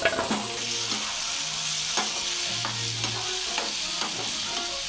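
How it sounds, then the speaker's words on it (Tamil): Chopped tomatoes with fenugreek powder and spices sautéing in oil for an eggplant dish: a loud, steady sizzle broken by repeated spatula scrapes against the pan, with no speech. "நல்லா வணக்கிக்கலாம். கொஞ்சம் உப்பு போட்டு கிளறிக்கலாம்."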